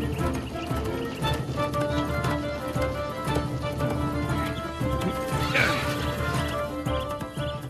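Cartoon horse hooves clip-clop in a quick galloping rhythm under a music score, with a whinny and a brief crash partway through.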